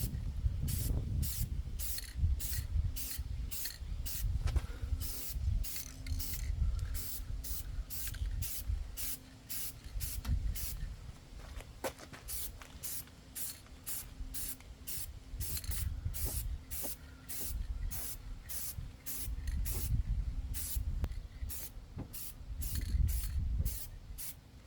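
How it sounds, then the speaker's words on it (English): Rattle-can spray paint hisses in repeated short bursts as a light first coat goes onto a car outdoors in a breeze, steady rhythmic passes with brief pauses, close and clear, with wind rumble underneath and no talking. "Just a little light coat, and then we'll come back and we'll fill it in on the second coat."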